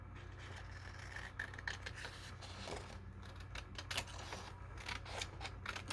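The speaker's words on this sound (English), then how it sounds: "you're going to angle your scissors and cut that corner out" Scissors snip through paper scraps, angling to miter the corners of a small handmade envelope: a run of soft, crisp cuts and light paper scrapes over a steady low room hum.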